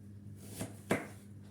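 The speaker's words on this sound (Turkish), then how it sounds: "Soğanları ortadan ikiye bölüp şeklinde halka halka doğruyorum yuvarlak şeklinde" Knife slicing halved onions into thick rings on a board for baked bonito, two distinct crisp cuts close by, separated by a brief pause, in a quiet kitchen.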